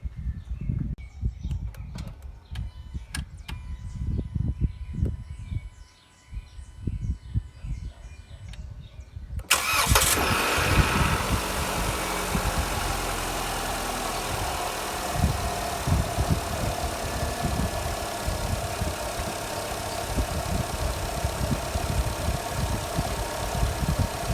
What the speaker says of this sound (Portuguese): agora o carro ligado